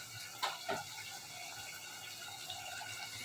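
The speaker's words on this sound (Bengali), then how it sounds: "একটু পানি দিয়ে নিই।" Water poured into a cooking pot of potato, pointed gourd and fish for a curry, a steady low splashing stream with a couple of brief louder splashes near the start, close by with no talking.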